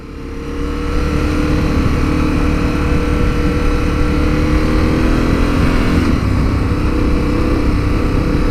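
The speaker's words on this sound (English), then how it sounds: "This engine's definitely really smooth." A KTM 1290 Super Adventure motorcycle engine running steadily while riding, a loud, smooth, continuous drone with no talk over it.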